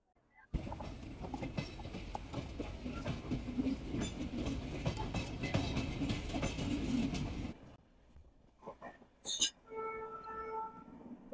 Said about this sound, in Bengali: দমদম স্টেশন ট্রেনটা কিন্তু বেশ ভালোই জোরে যাচ্ছে